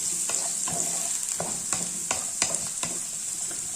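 Curry leaves, shallots and green chilies sauté in hot oil, a bright continuous sizzle broken by repeated sharp scrapes and clicks of a spoon stirring the pan, close and clear, with no voices.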